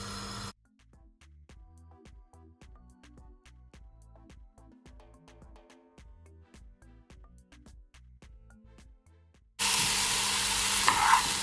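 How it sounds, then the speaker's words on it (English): Potato salad ingredients sautéing in a pan on a stovetop: a string of sharp, regular stirring taps and scrapes over a quiet background, ending in a loud burst of sizzling. "I'm gonna saute it for at least 3 minutes."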